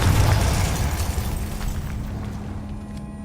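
In Hogwarts Legacy, the Confringo spell detonates in a loud, booming explosion right at the start, then a rumbling tail fades and thins over about three seconds.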